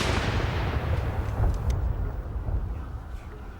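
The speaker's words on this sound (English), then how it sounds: "King's Troop, of course, firing their guns on important ceremonial events" Ceremonial artillery gun salute fired by the King's Troop, a single loud deep boom that rolls off and echoes away over several seconds in open air.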